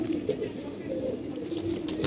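A red-bodied Giribaz army pigeon, a Jiragola with white wings, coos in low, steady throaty murmurs close by, the calls running on continuously.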